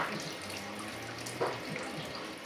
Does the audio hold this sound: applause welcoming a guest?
no